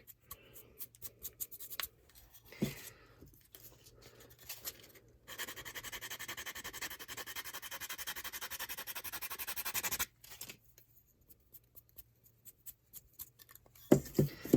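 Wood being sanded by hand with a small piece of sandpaper, heard as quiet scattered rubbing strokes followed by a steady five-second stretch of continuous scratching, then a few more faint strokes, no talking.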